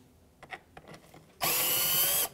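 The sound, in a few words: power screwdriver removing Phillips head screws from grille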